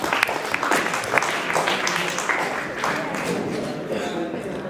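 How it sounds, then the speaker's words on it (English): A classroom of students claps for a right answer in a chemistry class, giving a short burst of scattered, uneven applause that carries on at a moderate level. "Right answer, please clap for."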